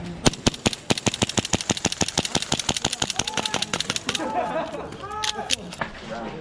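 A CO2 airsoft pistol with a metal slide fires a long, rapid string of sharp cracks at close range, a steady rhythmic burst, then trails off into a few scattered shots with a faint voice.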